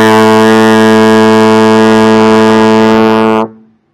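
A single long, full-bodied trombone note, A played in second position, sustains loudly and evenly for over three seconds with no other sound, then stops with a brief fading echo.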